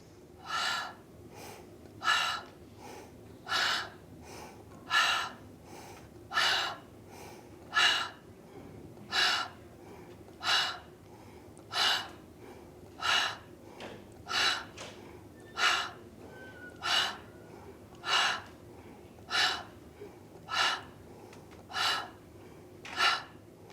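Deep, rhythmic breathing during a seated chair yoga class, roughly twenty evenly spaced breaths heard close and clear over a quiet room hum, with no talking.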